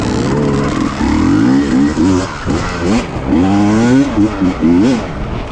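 KTM TPI two-stroke motorcycle with relocated injector, its engine revving up hard in first gear and pitching up again after a shift, loud and close with rising, wavering engine tones.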